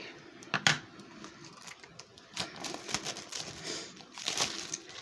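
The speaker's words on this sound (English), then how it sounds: "Let me go ahead and get these a little cut. They are plastic, air seal tight." Someone slits the air-tight plastic seal on a tarot deck, producing quiet, close crinkles and small scratchy cuts in uneven bursts, with no voices.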